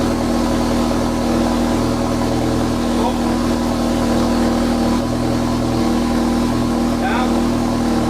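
A VW Scirocco R, once abandoned on a farm, idles with its engine running during brake work, a loud, steady low hum with no breaks throughout.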